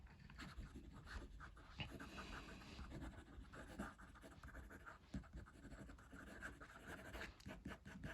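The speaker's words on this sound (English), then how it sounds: "Quick writing." Caran d'Ache 849 fountain pen with a firm nib writing quickly on paper, a soft continuous scratching of nib strokes with small rhythmic bursts, close and fairly quiet, with no talking.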